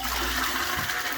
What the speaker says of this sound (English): I'll give the toilet a flush.